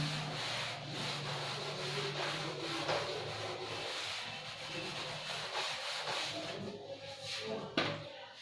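A cloth or duster rubs writing off a board during a physics lecture, making a steady, continuous scrubbing sound at moderate volume with no pauses.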